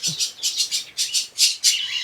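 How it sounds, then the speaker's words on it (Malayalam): Lory chicks in a backyard aviary give a rapid series of about eight short, harsh squawks, evenly spaced and fairly close, with no talking. "ലോറിയുടെ കുഞ്ഞുങ്ങളെ നമുക്ക് നോക്കാവേ"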